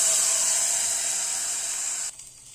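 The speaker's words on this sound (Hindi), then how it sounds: "अब इसमें मैं डाल दे रही हूँ छौंका लगा रही हूँ" A tempering of red chillies is poured into tomato soup, giving a loud, steady hiss of sizzling oil that cuts off abruptly near the end, leaving a faint residual fizz.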